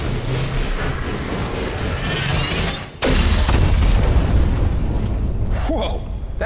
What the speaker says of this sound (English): That explosion must have shaken the whole tower.